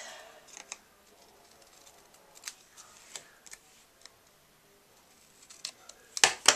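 Scissors trimming paper for a handmade card, scattered crisp snips and light clicks over several seconds, close and quiet, ending in a louder burst of cuts.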